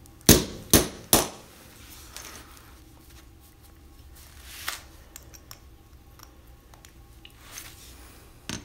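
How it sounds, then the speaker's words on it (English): A 3-pound hammer strikes a hardened steel punch set against a Viro Blocca Catena bike lock: three sharp, loud metallic blows in quick succession, then a quieter scattering of smaller knocks and taps. "see if we can do some damage with this 3-pound hammer"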